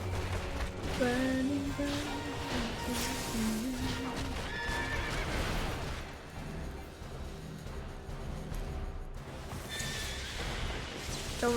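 Horse neighs and whinnies ring out repeatedly over a busy, dense Final Fantasy XIV: Heavensward soundscape with rumbling and clip-clop hooves.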